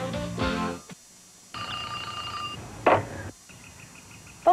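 A telephone rings in bursts separated by short gaps, with a louder final ring at the end, mixed with some background noise and no talking.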